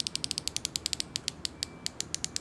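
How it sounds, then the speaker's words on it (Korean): A Festool hand ratchet clicks rapidly and crisply, a close, even run of about two dozen bright metallic pawl clicks in quick succession with a brief pause midway, no talk. "자, 제가 좋아하는 라쳇 소리."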